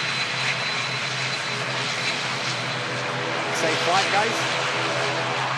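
Jet2 Boeing 757 engines roar steadily nearby at Manchester Airport, a broad continuous rumble with a slight swell near the end, while a person speaks briefly over it.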